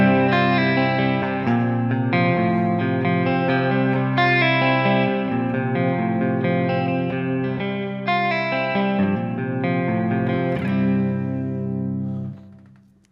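Electric guitar played through a Kemper Profiling Amplifier with a large hall reverb, sustained distorted chords ringing with long reverberant tails, loud and steady, fading out at the end.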